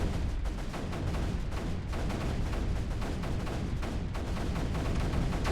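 Bertha cannon and mortar fire in Creeper World 3, a steady, dense barrage of rapid booming impacts rolling on without pause at a modest level, with no voices.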